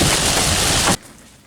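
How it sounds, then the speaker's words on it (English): Loud, dense rain drums steadily on a vehicle for about a second, then cuts off abruptly to a much quieter background. "Well, it's a rainy day."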